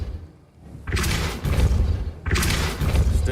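Depulso spell impacts in a Harry Potter video game: two forceful bursts of thudding, rumbling noise, the first after a brief quiet lead-in and the second about a second and a half later, both loud and close.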